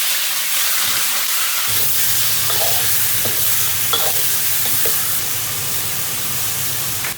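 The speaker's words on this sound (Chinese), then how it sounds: "开火，稍微下点油，把我们的肉下锅煸一下" Pork belly frying in a little oil in a pan for Dongpo braised pork, a continuous loud sizzle and hiss with faint occasional clinks of stirring, no voices.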